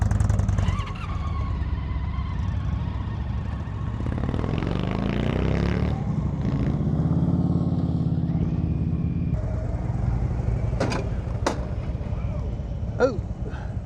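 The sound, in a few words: motorcycle riding in the Arizona mountains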